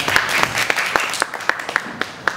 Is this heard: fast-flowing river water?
no